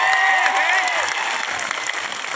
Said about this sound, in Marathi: त्या माणसासाठी एक टाळ्या, सगळ्यांसाठी टाळ्या